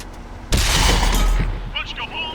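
A World of Tanks tank shell strikes enemy armor with one sudden loud, crashing impact, followed by a rumbling decay and faint mechanical clanks.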